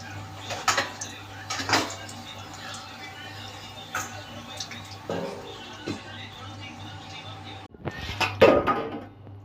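A lid goes down over a pan of slowly cooking vegetables with a few light metallic clanks and knocks spread across the clip, set against a steady low kitchen hum, with someone talking in between.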